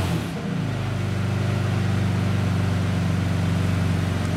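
Stock car engine idling close by while being tuned with a wideband air-fuel ratio gauge: a steady, even drone with a constant low hum throughout.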